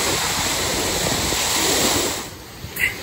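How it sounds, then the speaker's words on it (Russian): Black Sea waves wash onto the shore in a loud, continuous rushing roar, with some wind buffeting, before easing to a quieter wash near the end. "Вот море, мы к нему идем."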